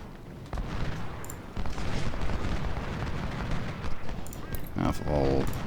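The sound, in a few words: musket volleys firing in Ultimate General: Civil War video game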